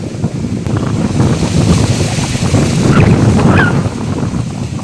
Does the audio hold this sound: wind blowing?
yes